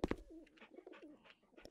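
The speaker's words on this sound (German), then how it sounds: "Hier ist eine Taube." A pigeon in House Flipper Pets gives a couple of soft, rolling coos close by after two sharp opening notes, clear and quiet with nothing else around it.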